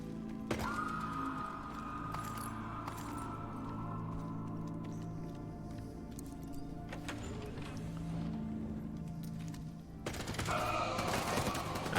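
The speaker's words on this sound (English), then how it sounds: "I just walked in the door and you're greeting me with automatic gunfire" Automatic gunfire and mechanical game effects fill an indoor fight in the video game Division 2, a dense steady clatter with a sustained tone and a louder burst of shots near the end.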